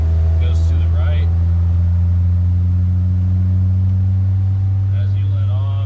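A Honda car's engine runs at a steady, loud, low drone throughout, with no clear rise in revs, while someone speaks briefly near the start and the end.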